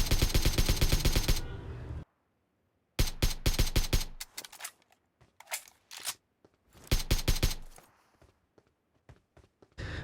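Rapid automatic gunfire in a shooter video game, aimed at an enemy bot: several loud, tight bursts separated by brief silences, with scattered single shots and faint footstep-like clicks between them.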